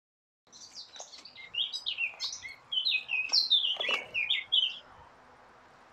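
A bird sings a lively, warbling song of rapid high chirps and trills, clear and fairly close against a quiet background on a golf course near Toulouse.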